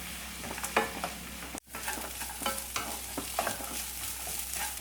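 Sliced onions and curry leaves sauté in a hot oiled pan, a steady sizzle broken by scraping stirs and a brief pause, close and fairly loud.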